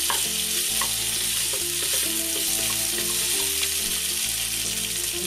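Potatoes tossed in hot oil with browned green chillies for a fasting-day dish, a dense continuous sizzle with soft stirring scrapes layered over a low repeating background tone, steady and close throughout.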